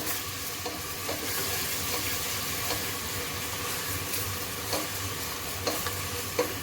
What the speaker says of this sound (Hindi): ये सारी चीज़ें ऐड करके इसको मीडियम फ्लेम पे मैं भून लूँगी।